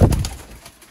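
A brief, low, soft coo from Sialkoti pet pigeons, heard close up and fading within a second.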